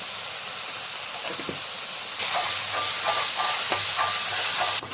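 Ginger, shallots and tomato sautéing in a pan: a steady bright sizzle with occasional clinks and scrapes of stirring, growing louder and hissier partway through, with no talking.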